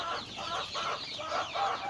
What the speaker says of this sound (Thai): วันนี้ผมก็จะพามาดูไก่อายุ 6 สัปดาห์แล้วนะครับ